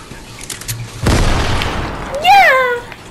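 Bomb explosion in Fortnite, a sudden loud boom that rolls into a long crackling decay, followed by a rising whistling game effect near the end.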